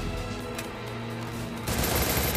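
Free Fire video game gunfire, a rapid burst of automatic shots erupting loudly at the end after a stretch of droning game background.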